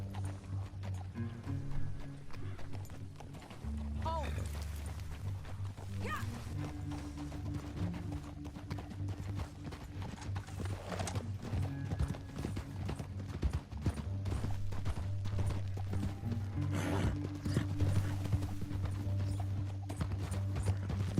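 Horse hooves clip-clop at a steady gait across a Red Dead Redemption 2 game landscape, moderately close under continuous music and ambient sound, with brief spoken exclamations.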